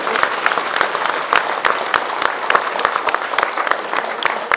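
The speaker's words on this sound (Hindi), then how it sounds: "जरा तालियां बजाएं अपने लिए सब मिलके" A hall audience applauds in an even, sustained burst of clapping, with sharp claps standing out from the dense crowd noise and no speech over it.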